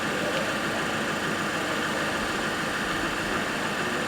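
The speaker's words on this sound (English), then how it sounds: "As I've got the engine running" A 2015-era Ford Mondeo Mk5 with an overheating engine idles steadily, a constant low rumble with broad noise, even and unbroken, heard close with no talk.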